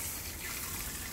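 A pressure washer sprays water to clean out a home canal, a continuous loud hissing gush with no pauses.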